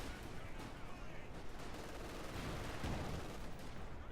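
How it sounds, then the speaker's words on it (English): Distant bombing and scattered gunfire rumble through a video game battle, a continuous low wash of explosions and shots, fairly faint and steady with no clear single blasts. "They're getting bombed."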